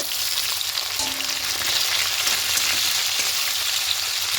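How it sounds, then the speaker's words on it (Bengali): Potatoes and tomato fry in oil in a pan, a steady close sizzle with faint scraping of stirring throughout and no talking. "আলুগুলো হালকা লাল করে ভাজা হয়ে যাচ্ছে"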